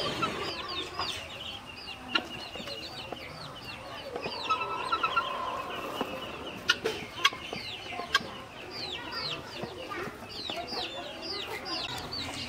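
A laying turkey clucks repeatedly in short chirping calls at close range, with other poultry clucking around it and a few sharp knocks over a steady farmyard background.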